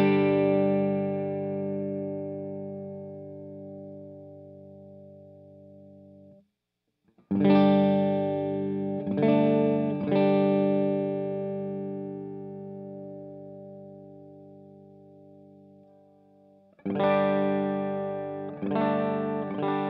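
A Gretsch Electromatic G5422TG hollow body electric guitar played on its neck pickup through a pedal board rings out with sustained chords that decay slowly, followed by a pause and fresh strums, with no talking.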